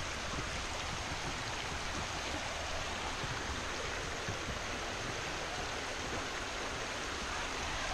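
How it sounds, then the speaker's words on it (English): Mosquito River pouring into Lake Superior, a steady rushing wash of flowing water, broad and even with no break, heard alone at moderate volume. "The Mosquito River flowing into Lake Superior."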